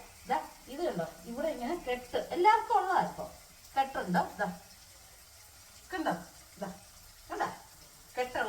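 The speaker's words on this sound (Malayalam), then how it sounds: "നമ്മുടെ നങ്കിനെയും കൂടെ നമ്മൾ വറക്കാൻ ഇട്ടു" Nangu fish frying in a pan gives a soft, continuous sizzle, heard most clearly in the pauses between bursts of close speech.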